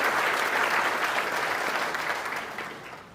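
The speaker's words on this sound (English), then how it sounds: "So can we give them one round of applause, really, for all that they've done as part of our community." An audience claps steadily at the City of Fair Oaks Ranch 2023 State of the City address, a dense, even wash of applause that slowly tapers off toward the end.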